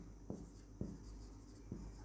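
Marker or chalk strokes on a board during a physics lesson on equipotential surfaces, three short scratchy taps spaced apart over a steady low room hum, fairly faint and with no talking.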